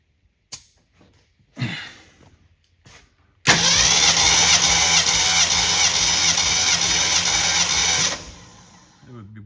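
Ford 289 V8 in a 1964 Galaxie cranking over during a compression test, a loud, steady, rhythmic starter churn lasting about five seconds, preceded by brief clunks and a short burst of activity.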